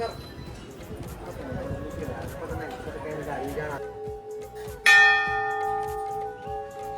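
A temple bell at Dhari Mata temple is struck once, loud and close, then rings out with a long, shimmering decay after a stretch of murmured voices.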